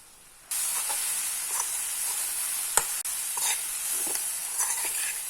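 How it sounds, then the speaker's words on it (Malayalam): Onion paratha filling with pepper powder, chili flakes and garam masala sizzles in a hot pan. A steady hiss starts abruptly, broken by occasional scrapes and taps of a stirring spoon. "ഇനി നന്നായിട്ടൊന്ന് വഴറ്റുക."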